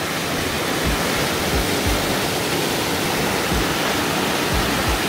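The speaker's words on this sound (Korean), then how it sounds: "거의 여기 폭포네요. 폭포." A waterfall in a mountain valley stream at Gwangdeok Valley in Gangwon-do roars close by as a loud, steady, unbroken rush of water.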